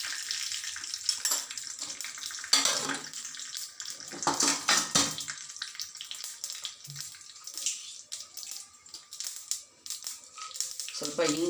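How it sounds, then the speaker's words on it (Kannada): Urad dal crackles and sizzles in hot oil while tempering for mint chutney, a steady hissing fry with bursts of spattering and occasional clinks, fairly close and continuous throughout. "ಈಗ ನಾನು ಅದಕ್ಕೆ ಒಗ್ಗರಣೆ ಕೊಡ್ತಾ ಇದ್ದೀನಿ. 1/2 ಟೀ ಸ್ಪೂನ್ ಉದ್ದಿನಬೇಳೆ ಹಾಕ್ತಾ ಇದ್ದೀನಿ."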